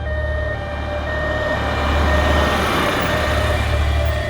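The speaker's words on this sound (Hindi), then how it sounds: "ये सब यहाँ एम्बुलेंस कैसे क्यों आई है?" An ambulance siren wails steadily under low engine rumble, holding a continuous tone over a dense traffic-like drone for a few seconds.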